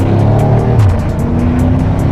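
A modified F90 BMW M5 accelerates hard, its engine note loud and rising over a short burst, heard close with strong low rumble.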